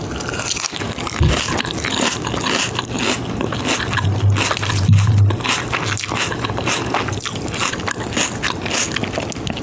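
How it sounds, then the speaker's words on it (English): Lettuce being chewed up close in ASMR style, with continuous wet crunching and munching at a steady rhythm, loud and intimate, plus a few soft knocks against the table. "This lettuce is a little chewy."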